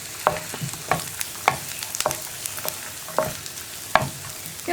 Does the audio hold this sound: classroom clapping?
no